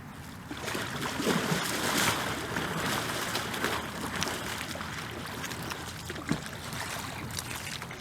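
Water sloshes and splashes in a steady wash as a single-person raft is paddled, with occasional sharp knocks as a paddle strikes, no voices heard.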